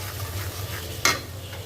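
A tomato mixture for pasta sizzles softly in a pan while being stirred, with one sharp utensil scrape near the end.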